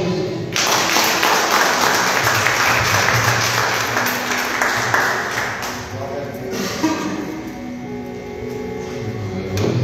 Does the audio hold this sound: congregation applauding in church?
yes